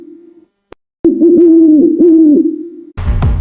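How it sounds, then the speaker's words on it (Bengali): An owl hoots at night with a sustained low, wavering call that rises and dips in a few long swells, loud and close, set against a quiet backdrop and followed by a brief burst of other noise. "ওটা শুধু একটা পেঁচা"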